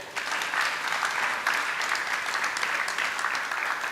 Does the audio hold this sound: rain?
no